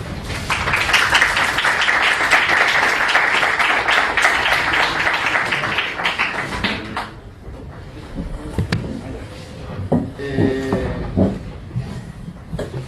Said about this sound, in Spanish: para que le demos la bienvenida con un caluroso aplauso